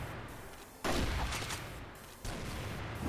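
Heavy gunfire in the shooter game CrossFire, with sustained bursts of rifle fire that swell loud at intervals and keep a dense, continuous rattle throughout.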